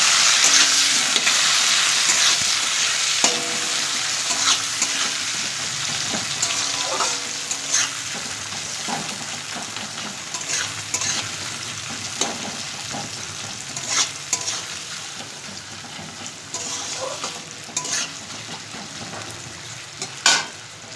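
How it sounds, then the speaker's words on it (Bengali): Onions fry in hot oil for a curry, giving a loud, close, continuous sizzle broken by repeated scraping and clinking strokes of a stirring spoon. "এখন এই তেলের মধ্যে আমি পেঁয়াজ দিয়ে দেবো। পেঁয়াজগুলোকে সুন্দর লাল লাল করে ভাজতে হবে।"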